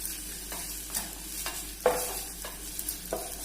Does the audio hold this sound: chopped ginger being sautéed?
yes